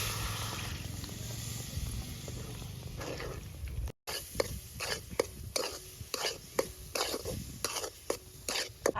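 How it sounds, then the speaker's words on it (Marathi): Half a litre of milk goes into a pan of mango sheera topped with almond pieces, giving a steady hiss and sizzle, then a run of rhythmic scraping stirs and clinks after a brief cut. "अर्धा लिटर दूध घेतलंय आपण ते त्याच्यात टाकून घेऊ"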